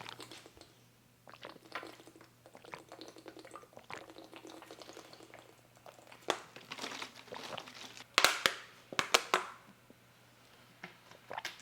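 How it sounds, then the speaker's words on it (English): An electric kettle heats water with a soft, steady crackling hiss that builds toward the end into louder, uneven bursts of bubbling. No one speaks. "I'm gonna warm up my kettle with water."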